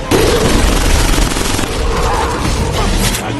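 Sustained heavy gunfire as vampires fire silver bullets at attacking lycans in the Underworld film, a loud dense barrage mixed with booms and chaotic action noise throughout.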